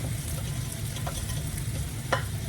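Pineapple fried rice folded with a spoon in a bowl, a steady sizzling, stirring texture with a couple of brief scraping clicks near the end, close and continuous with no talk.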